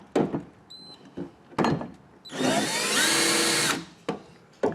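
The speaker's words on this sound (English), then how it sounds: "take a drill bit, it's a 3/8 of an inch drill bit" A power drill with a 3/8-inch bit whirs for about a second and a half, a rising high-pitched spin scoring a mark, with a few knocks and handling clatter before and after.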